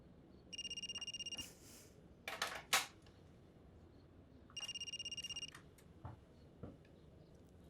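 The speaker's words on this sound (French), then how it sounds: "C'est quoi cette sonnerie?" A telephone rings in an apartment building, two bursts of an electronic ringtone separated by a few seconds of quiet, with faint clicks and handling noises between rings.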